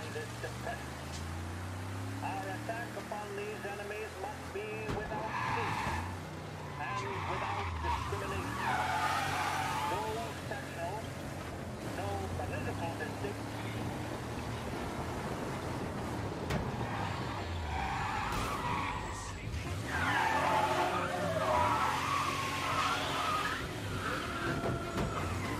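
Car engine revving and tires skidding while driving in the video game Mafia: Definitive Edition, an American muscle-style car; continuous engine drone with squealing slides, under steady Turkish commentary from someone talking throughout.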